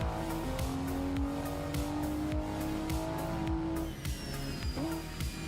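Exterior engine of a car in a driving video game, revving through rising gear pulls with gear-change drops, loud and close, with rhythmic ticking and a brief squeal near the end.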